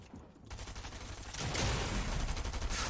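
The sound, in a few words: gunfire in a video game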